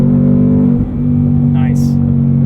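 2022 Ford Mustang Mach 1 with manual gearbox and Handling Package, heard from inside the car as its engine drones loud and steady, dips briefly during a no-lift upshift, then pulls on again.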